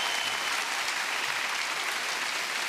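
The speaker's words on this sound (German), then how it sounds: "Ein Applaus bitte für unsere Hands." A crowd at a strongman competition gives a dense, steady round of applause for the helpers, an even wash of clapping throughout with no voices standing out.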